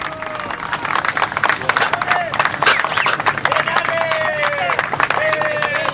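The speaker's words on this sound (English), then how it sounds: "they're clapping, his family and the rescue team around the borehole." The family and rescue team at the borehole applaud Chilean miner Alex Vega as he is brought up. Steady, dense clapping mixes with crowd noise, whistles and voices talking throughout.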